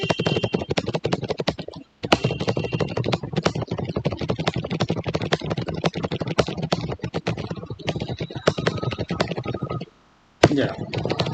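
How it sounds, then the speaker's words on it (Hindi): Steady, rapid keystrokes on a computer keyboard while typing paragraphs in a word processor, dense clicking throughout with two brief pauses; a voice talks over much of it. "मैं उसको टाइप करता जा रहा हूँ"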